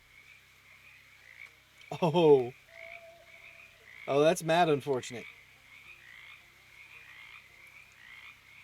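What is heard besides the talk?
frogs croaking in a bog, from the video game Shadows Over Loathing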